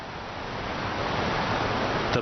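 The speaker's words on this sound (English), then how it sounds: "The Blue Nile waterfalls are imposing." The Blue Nile waterfalls in Ethiopia roar as a steady, dense wash of broadband noise, continuous and unbroken from start to end with no voices.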